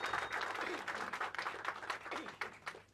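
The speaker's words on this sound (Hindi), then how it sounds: "जोरदार तालियां बजा दीजिए" Audience clapping at the trailer launch of the Maulana Azad biopic "Woh Jo Tha Ek Messiah." A burst of dense applause comes in swelling waves over a few seconds, moderately loud in a hall.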